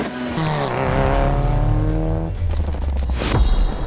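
A Toyota Land Cruiser Prado engine drones steadily and rises in pitch as the SUV pulls away, loud and close, with a brief shift in tone midway.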